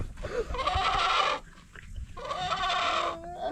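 A rooster crows in two long, loud, raspy bursts separated by a short pause.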